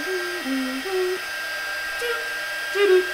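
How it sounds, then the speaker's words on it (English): An embossing heat tool blows hot air onto powder with a thin, steady whirring hum that wavers slightly in pitch and stays at moderate volume throughout. "So now we're going to heat emboss this."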